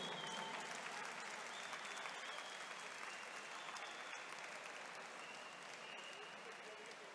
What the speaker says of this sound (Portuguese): Uma salva de palmas para os nossos atletas medalhados nos 50 metros livres.